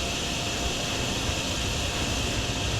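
A vacuum running in the video game DrainSim, clearing flood water at a train station, drones as a loud, steady broadband roar that holds constant throughout with no talking.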